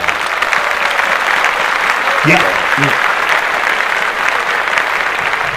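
Steady applause from a small group fills the whole stretch, a close, even patter of clapping with a brief voice over it.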